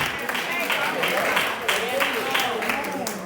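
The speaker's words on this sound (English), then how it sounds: "That's a word for somebody this morning that deserves a hand clap of praise." Church congregation clapping hands in praise during a Sunday morning service, a lively bed of many hands applauding throughout while a preacher's voice carries over it.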